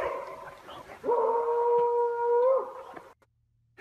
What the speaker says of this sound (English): Klinkt als een soort hond.